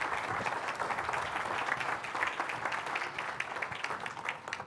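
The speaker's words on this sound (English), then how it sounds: "let's give Sandeep a round of applause." Steady applause from an audience at a tech conference talk, dense clapping sustained evenly throughout without pause.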